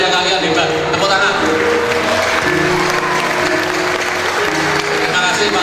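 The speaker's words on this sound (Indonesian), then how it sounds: "Tepuk tangan." An audience applauds steadily and loudly at a school community learning event and book launch, with a voice carrying over the dense, continuous clapping.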